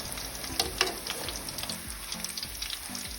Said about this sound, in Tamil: இதே மாதிரி நான் சொன்ன மாதிரியே பொரிச்சு எடுத்துக்கோங்க